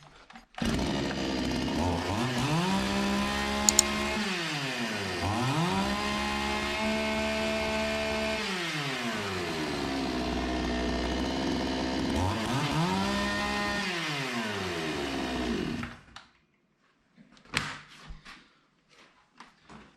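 A Zomax chainsaw engine, its fuel mixture turned down because of heavy smoke, runs loud and close, revving up and dropping back repeatedly in long swells for about fifteen seconds before shutting off, followed by a few clunks.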